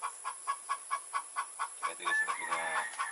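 A native hen clucks after laying eggs, a clear series of evenly spaced, fairly faint clucks in a steady rhythm, breaking into a louder, busier cackle near the end.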